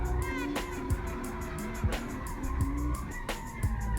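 A modified Mazda Miata drifting gives a sustained engine roar, with tires squealing in repeated bursts as it slides. Someone talks over it at moderate level.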